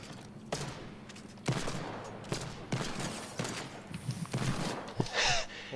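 Heavy booming hand cannon gunshots in Fortnite fire one after another at a steady pace, loud and close, with a noisy background and a short whoosh near the end.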